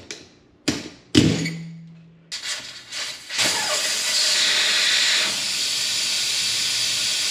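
Air hisses steadily out of an off-road tire after its valve core is pulled, preceded by a few thumps and taps, then a loud continuous close rush of escaping air.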